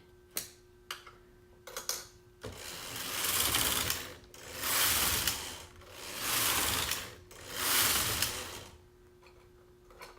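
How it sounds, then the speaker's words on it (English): A knitting machine works a 2x2 rib decrease, moving rib needles up to the main bed: a few sharp mechanical clicks, then four long rushing carriage sweeps in a steady rhythm, close and fairly loud, with no talk. "Now I need to do the decrease, which is moving these 2 ribbon needles up to the main bed."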